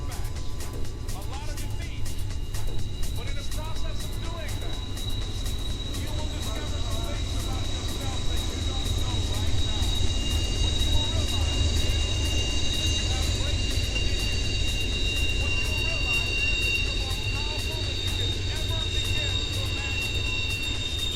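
An intermodal freight train rolls past at an overlook, a steady loud low rumble with clattering wheels holding through the whole stretch, with talk over it.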